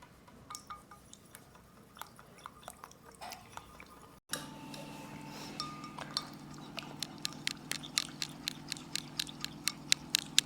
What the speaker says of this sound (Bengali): তো দাঁড়াও, আমি আগে একটু ফেটিয়ে নিই